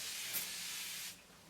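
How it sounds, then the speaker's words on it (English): Fine spray mist spritzed over a made-up face, vitamin or thermal water, a steady close hiss lasting about a second before cutting off. "once my makeup is totally finished, I like to spritz it with either a vitamin spray or a thermal water spray"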